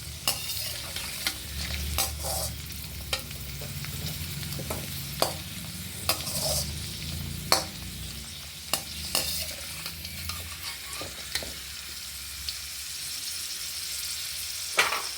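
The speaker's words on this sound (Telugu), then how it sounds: "ఇట్లా గోల్డ్ కలర్ వచ్చే వరకు బాగా ఫ్రై చేసుకోవాలి." Semolina frying in ghee in a pan until golden, a steady close sizzle broken by frequent sharp scrapes and taps of a stirring spoon, no voices.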